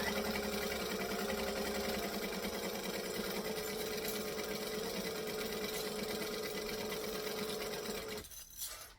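A sewing machine stitches steadily through vinyl, giving a close, continuous mechanical whir for about eight seconds before it stops abruptly near the end.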